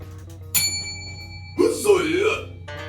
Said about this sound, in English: Okay, I haven't rang this bell in a while.